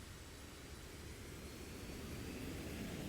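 An aircraft launching in an Xbox 360 video game, a very faint, steady broadband engine roar and rushing noise that swells slightly toward the end, with no voices.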